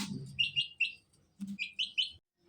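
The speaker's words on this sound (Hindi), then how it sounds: "यार अभी हम लोग कबूतरों के पास आए हैं।" Pigeons with their young, a pair with a brown chick, giving a run of bright chirping calls in two bursts with a short pause between, close by, with no talk over them.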